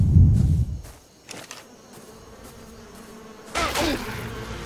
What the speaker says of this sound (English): Bugs that I can't deal with.